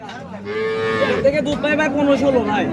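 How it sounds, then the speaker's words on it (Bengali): A Jersey heifer, a four-tooth cow in her second calving, moos loudly at a dairy farm in one long, drawn-out, wavering call that lasts nearly three seconds, close by with no talking. "সেকেন্ড টাইম জার্সি বকনা বাচ্চা চার দাঁতের গরু"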